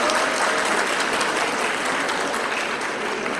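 Audience at a Korea public procurement expo applauding to welcome a guest, a steady, even wash of clapping from a large crowd that holds at constant loudness from start to finish.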